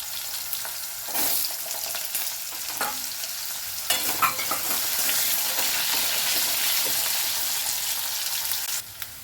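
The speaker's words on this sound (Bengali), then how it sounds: "আলুগুলো বেশ কিছুক্ষণ নাড়াচাড়া করা হয়ে গেছে।" Potato pieces frying in oil with bay leaf and five-spice seeds in a pan, a continuous close sizzle with intermittent scraping stirs, the hiss growing fuller midway.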